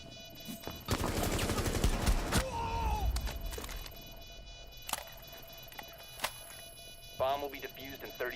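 Rapid bursts of automatic fire from a GIGN rifle in Rainbow Six Siege, dense volleys early then scattered single shots, with a voice speaking in between and a faint electronic whine underneath.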